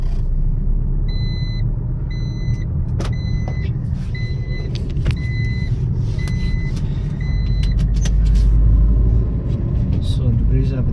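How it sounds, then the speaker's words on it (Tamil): Maruti Brezza car climbing uphill in first gear at a hill station, a steady low engine and road rumble heard from inside the cabin, swelling slightly near the end, with someone talking over it and a few short electronic beeps. "கிளச்சை ஃபுல்லாக பிடிச்சிட்டு ஹேண்ட் பிரேக் எடுத்துகிட்டு ஃபஸ்ட்டு கியர் போட்டு போயிட்டே இருக்க வேண்டியதான்"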